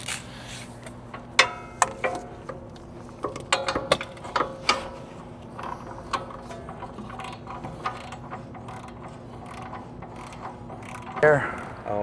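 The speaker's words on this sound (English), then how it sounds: "It's probably better just to get it snug with the ratchet." A ratchet snugs the hub half-shaft bolts on a Tesla Cybertruck during a repair, sounding as a series of sharp, close clicking bursts with pauses between them and a faint steady hum underneath.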